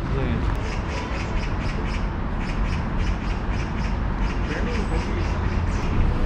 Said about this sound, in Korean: 이 새소리 진짜 오랜만이다.